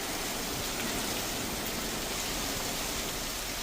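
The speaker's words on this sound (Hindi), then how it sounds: "गरज चमक और बारिश का दौर जारी है।" Heavy rain pouring down in Mumbai, a steady, dense hiss of downpour filling the whole clip evenly without pauses, loud and close with no voices.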